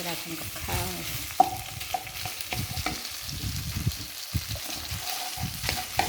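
Pork stir-frying in a little olive oil for rad na, with a soft, continuous sizzle and repeated spatula scrapes and taps close by.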